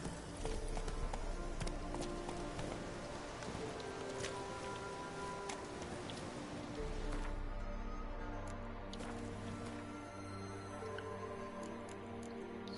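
Hooves clip-clop in a quick, continuous rhythm as the horse Roach gallops in The Witcher 3, set against a rain-like wash of ambient noise, with no talking.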